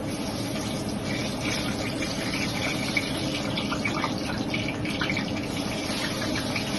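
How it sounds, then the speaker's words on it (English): Plantains frying in hot oil for a jollof rice meal, giving a steady, close hiss of bubbling oil with a fine crackle throughout and no talking. "I think my oil is hot enough, so I'm just going to add some plantains to it."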